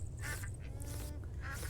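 Ducks quack repeatedly on a farm in the video game Farm Together 2, a few clear bursts over a steady low background hum, fairly quiet and close, with no talking.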